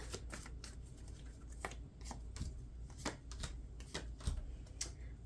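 Tarot cards being shuffled and drawn, close and quiet, with a rapid series of crisp riffling flicks and taps in irregular bursts and no talk.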